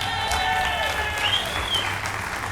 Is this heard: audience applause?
yes